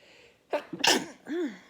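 A single close sneeze, with a sharp intake of breath followed by a forceful burst and a short trailing vocal sound.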